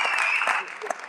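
Audience applause at a college spring concert after a jazz set, a brief burst of clapping that fades toward the end under a faint voice.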